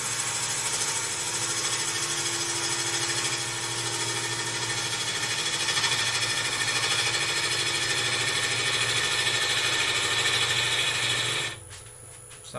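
A wood lathe spins a goblet blank as a turning tool cuts into it, giving a steady, loud, continuous whirring drone with a tonal hum that stops abruptly near the end, no talking.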